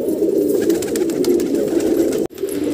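A round-headed pigeon coos close to the microphone in a continuous low warble. The sound breaks off abruptly for a moment near the end, then resumes.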